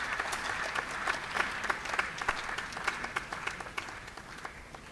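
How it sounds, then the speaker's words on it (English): An audience at a choral oratorio concert in Lagos breaks into sustained applause, a dense, steady wash of many hands clapping at a fairly close distance, with a few sharper individual claps standing out. "May I just ask us to please give a powerful round of applause to this guy."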